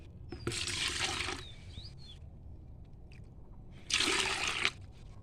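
Water from soaked banana, potato and onion peels poured onto coriander growing in a pot, two separate splashy pours about three seconds apart, close and brief; no talking.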